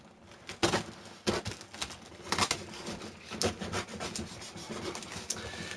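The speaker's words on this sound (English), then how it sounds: "So we've got to use these scissors." Household scissors snipping and rasping through a sealed parcel's packaging, a few sharp irregular cuts and scrapes up close with rustling between them, no talking.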